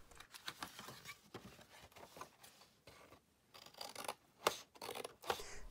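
Scissors cut through the cardboard top of a tissue box in a quick run of faint, crisp snips and rustles, close up and quiet, with no talking.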